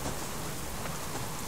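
Steady rain pours down in a wilderness survival game set in winter, a dense, even hiss with no break, heard alone.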